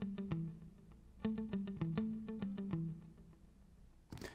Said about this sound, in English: Here's my guitar.